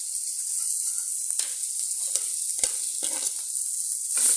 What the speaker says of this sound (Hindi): अब इसमें हमने 4 आलू उबाला था, उसे मैंने मैश करके इस तरह से मैं इसमें डाल रही हूँ।